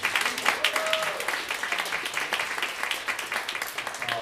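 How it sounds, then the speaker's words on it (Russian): A concert audience applauds with a moderate, steady patter of many hands, fairly sparse and mid-distance, with a few voices and a brief whistle-like tone over it. "Такие одинокие аплодисменты."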